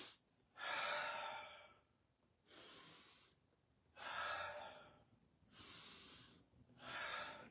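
Slow, deep breaths during a stretching exercise, five airy inhales and exhales in a steady rhythm, close but faint, without talk.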